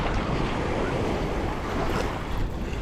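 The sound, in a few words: strong wind-driven waves on Lake Washington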